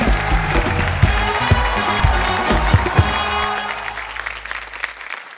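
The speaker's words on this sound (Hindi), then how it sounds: "तो एक बार जोरदार तालियां stand up comedian Jasmeet bag के लिए।" A studio audience on a TV comedy show gives hearty applause for stand-up comedian Jasmeet Baig. The dense, steady clapping sounds over a musical backing, then thins and fades toward the end.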